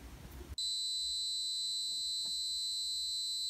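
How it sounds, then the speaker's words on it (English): A steady, piercing electronic buzzer tone from an Arduino tilt-sensor alarm starts abruptly after a brief burst of noise and holds continuously at a constant pitch, loud and close. "the buzzer goes off and the LED stops"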